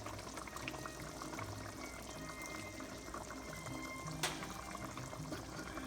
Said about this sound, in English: Now this is the time for us to add some coconut oil.